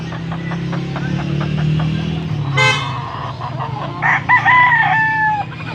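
A rooster crows loudly nearby near the end, following a vehicle horn toot over low engine hum, at a rooster market in Pampanga.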